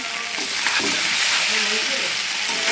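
Mutton fries in a pan for a Bengali curry, a steady, close, bright sizzle with soft stirring scrapes running throughout, no pauses.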